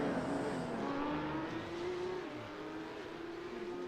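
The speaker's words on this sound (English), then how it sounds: "Joshua Wills here on screen with the 997 car" Porsche 997 Cup race car engine howling steadily on track, one continuous loud drone with slight pitch rises and falls as it holds speed.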